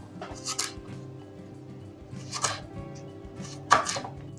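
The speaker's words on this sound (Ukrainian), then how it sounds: "Отак ми його впродовж нарізаємо." A knife cuts garlic lengthwise on a board, giving three separate close, crisp chopping strokes spaced about two seconds apart against a faint steady background hum.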